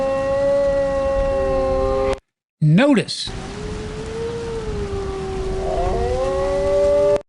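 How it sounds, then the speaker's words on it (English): Wolf howls, long continuous tones that hold and slowly bend in pitch, layered in a steady chorus, with a short spoken interruption and a brief gap partway through. "So here are our wolf howls again."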